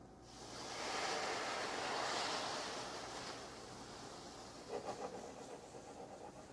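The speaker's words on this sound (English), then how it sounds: "Now it's time to add our veal stock here." Veal stock poured into a pan of chilies and toasting pumpkin seeds, a swelling rushing pour that fades into a quieter sizzle with small crackles and pops.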